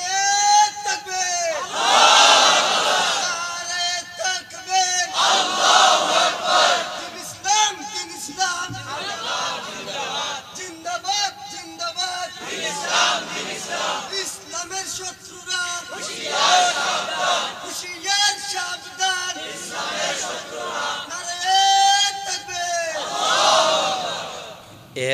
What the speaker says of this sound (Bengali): মাঝখান থেকে যখন তাকবীর দেন তো জোর করে, একবারে জোর করে দিবেন যেন শয়তান দূরে পালিয়ে যায়।